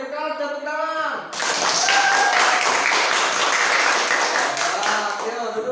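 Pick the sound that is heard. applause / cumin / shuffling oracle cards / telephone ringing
applause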